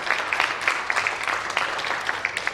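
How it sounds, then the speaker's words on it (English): Steady audience applause at a fashion workshop event, a dense wash of many hands clapping at an even level throughout. "let's give them a round of applause as well."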